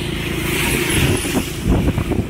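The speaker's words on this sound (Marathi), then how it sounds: "कदंबा गाडी आली आहे." A Kadamba bus arriving on a winding ghat road, its engine a loud, close, continuous rumble that swells slightly as it approaches, with no talk.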